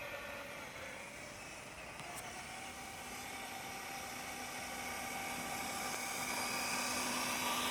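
Austar AX A6 6x6 RC truck crawling along in low gear with locked diffs, a steady thin electric motor whine with broadband hiss, gradually growing louder as it nears, no talking.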